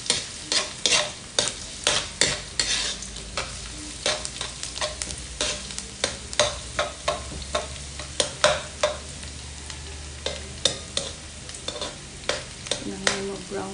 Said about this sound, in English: We're gonna brown the garlic.